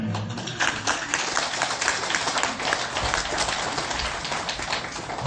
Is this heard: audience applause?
yes